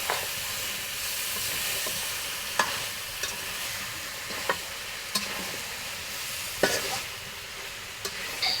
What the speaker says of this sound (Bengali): চাল কুমড়ো আর কষানো মাংস ভালোভাবে মিশিয়ে নেবে।